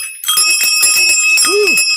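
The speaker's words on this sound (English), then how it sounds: "The bells. Is that too loud?" Replica bells ring several times in quick succession, bright sustained metallic tones with shimmering overtones, loud and close, with no talking over them.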